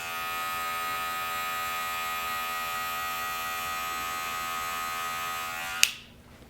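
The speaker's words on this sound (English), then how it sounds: "this clipper is going to be clipping each of those little micro hairs" An electric hair clipper buzzes steadily and close up while cutting short afro-textured hair, a constant high whine that runs for several seconds and then clicks off abruptly near the end, with no talk.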